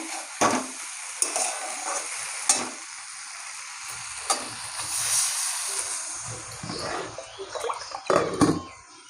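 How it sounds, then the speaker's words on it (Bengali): Water splashes onto spices fried in oil for a Bengali summer vegetable curry of pumpkin stems, banana stem and ridge gourd, setting off a loud, steady sizzle with bursts of crackling and stirring clatter, no voices. "এখন আমি জল দিয়ে দেবো"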